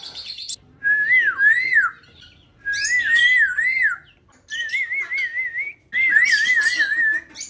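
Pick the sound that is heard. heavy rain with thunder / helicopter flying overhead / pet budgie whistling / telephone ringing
pet budgie whistling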